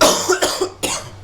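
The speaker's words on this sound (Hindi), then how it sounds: "थोड़ी खांसी है" Three harsh coughs in quick succession, loud and close, with short gaps between each burst and no talking.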